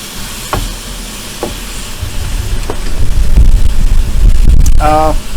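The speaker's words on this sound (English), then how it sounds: "Sizzling away here. Nice pound of ground beef." Steady crackling sizzle of a pound of ground beef frying in a pan, with occasional clicks and a brief chirpy noise near the end.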